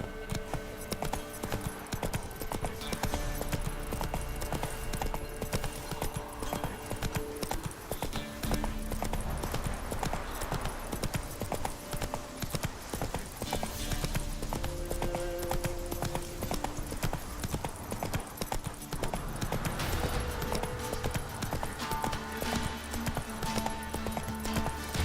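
The horse Roach gallops in The Witcher 3: Wild Hunt – Blood and Wine, giving a continuous close clip-clop of hooves in a quick steady rhythm with game music underneath.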